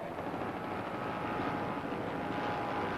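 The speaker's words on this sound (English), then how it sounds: "these Mercury motors sound very good right now" Mercury outboard motors on a racing powerboat at a 1992 grand prix in Norfolk, a steady, loud, continuous engine roar with broad rushing noise and no pauses throughout.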